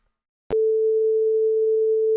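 A pure sine-wave tone synthesized in Pure Data starts abruptly with a click and holds steady and loud at one pitch, then cuts off sharply at the end.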